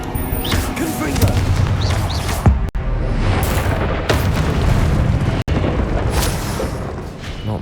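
Blasting spell explosions in the Hogwarts Legacy video game, a couple of loud booms with sharp cracks over busy combat noise, with a voice speaking amid the fight.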